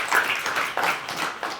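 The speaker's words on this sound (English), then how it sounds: "So, a round of applause." Applause at a business networking meeting, a short burst of many hands clapping together in a room, close and fairly loud, lasting under two seconds.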